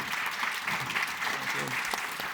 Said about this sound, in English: round of applause to our panel and to the moderator.